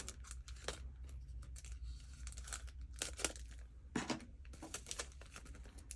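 Sticky plastic packaging around card stock being opened, giving a run of close crinkling and tearing bursts with quieter rustling in between, all without any voices.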